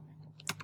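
A few quick clicks of Mac computer keyboard keys being pressed, close and soft, over a low steady background hum.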